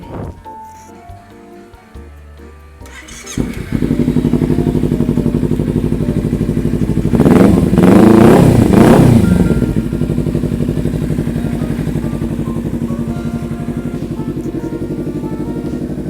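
A 2014 Kawasaki Ninja 300 ABS idles steadily up close, its engine note swelling into a brief rev midway before settling back to a smooth, even idle.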